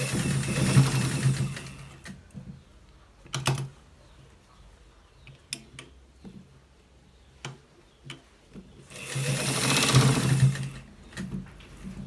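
A sewing machine stitches a collared shirt with buttons and hooks, its motor whirring in two long close bursts at the start and end, with short clicks and taps of handling in between.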